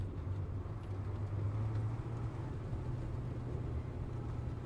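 A FOB truck driving in the video game Squad, a steady low engine drone that stays even and fairly quiet throughout, with no talk.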